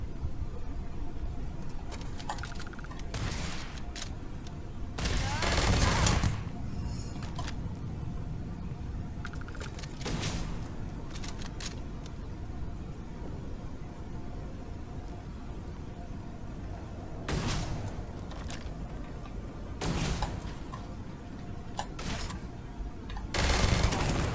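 Rapid bursts of gunfire from a weapon in the video game Starfield, loud cracking volleys recurring in clusters over a steady background rumble with no voice.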